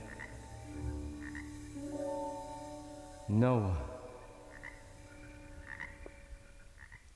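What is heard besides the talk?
frogs croaking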